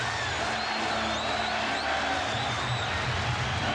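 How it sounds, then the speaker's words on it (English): Roaring basketball arena crowd at the 2004 NBA Finals, Lakers vs Pistons, a dense continuous wash of cheering and whistles heard from within the stands with no pauses. "Crowd uproarious."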